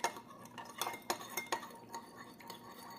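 Spoon stirring homemade lemonade with sugar in a kitchen, giving a series of light clinks and scrapes against the container at an uneven rhythm, close and fairly quiet.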